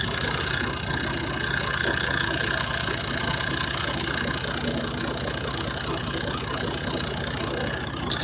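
Truck engine idling outdoors, a steady mid-to-low rumble running continuously at a moderate level with no clear changes in pitch or rhythm.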